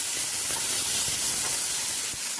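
Potatoes frying in a frying pan give a continuous close hissing sizzle with faint crackles, steady and unbroken for the whole stretch.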